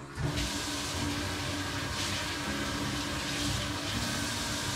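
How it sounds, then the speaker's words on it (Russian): Raw chicken legs rinsed under a running kitchen tap: a steady, fairly quiet rush of water splashing into a sink, unbroken for several seconds with faint shifts as the meat is turned. "И, естественно, ополоснуть."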